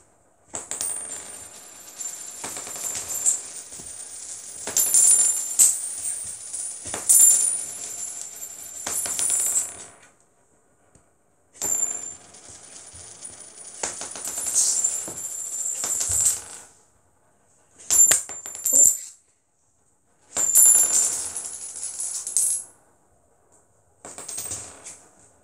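Coins spin and clatter on a hard surface in repeated bursts, each run a bright metallic rattling whir that ends abruptly with gaps of silence between, close and fairly loud.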